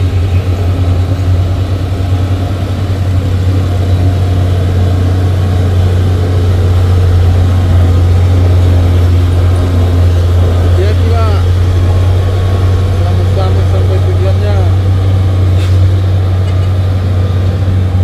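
Diesel engines of two 6x4 heavy-duty tanker trucks on a hill road rumble in a steady, loud low drone that holds throughout, with a faint rising whine near the end.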